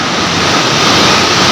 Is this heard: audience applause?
no